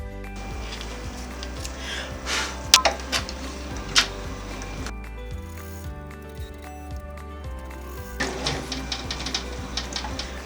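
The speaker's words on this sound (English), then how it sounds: "we're going to put it back in the machine, and we're going to go ahead and run our placement stitching" An embroidery machine runs placement stitching on a Halloween treat bag, its needle ticking in a fast, steady mechanical rhythm with a few sharper knocks, heard close over a continuous tonal background.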